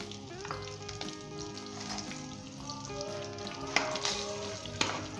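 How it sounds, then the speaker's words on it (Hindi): Already-browned fried onions sizzle and crackle over medium-low heat in a pulao pot, a soft, steady frying hiss broken by occasional stirring clinks and sharper pops. "1 मिनट के लिए इसे फ्राई कर लें मीडियम लो के ऊपर।"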